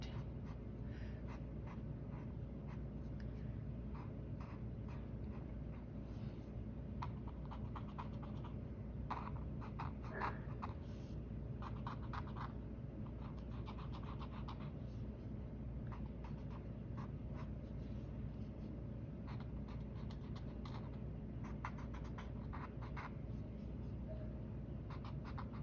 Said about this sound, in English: I'm gonna get my tortillon or my paper stump or my finger or my Q-tip, and I'm gonna spread out the graphite